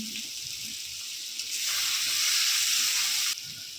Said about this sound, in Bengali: মশলাটাকে নেড়ে চেড়ে নিচ্ছি